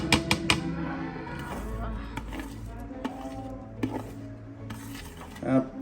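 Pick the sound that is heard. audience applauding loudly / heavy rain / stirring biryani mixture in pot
stirring biryani mixture in pot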